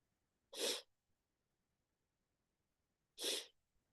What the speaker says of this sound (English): you get all hot after you sneeze